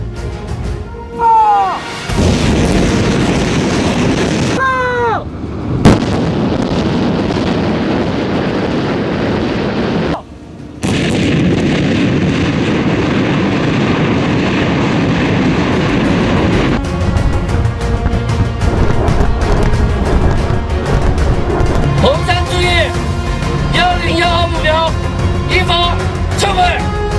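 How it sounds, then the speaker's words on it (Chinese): Missile launch and blasts during a live-fire military drill by a Tibet Military District brigade, a loud sustained roar with heavy wind buffeting and sharp cut-offs, followed by rumbling and faint radio chatter. "导弹已 发射"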